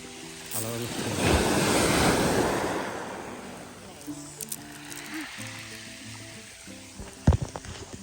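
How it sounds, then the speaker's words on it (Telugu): Ocean waves rolling in and breaking on a beach near Hualien, Taiwan, a close, broad surging roar that swells and fades away, followed by gentler wash and wind buffeting on the microphone, with people talking over it. "అలలు వస్తున్నాయి."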